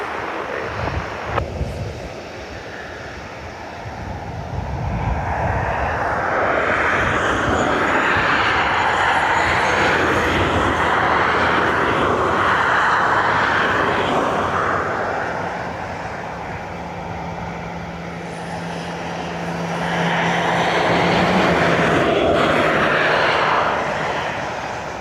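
A Lufthansa airliner landing on runway 28 at Dublin Airport, a broad, steady jet roar that swells, eases briefly in the middle and builds again, heard from a distance across the field.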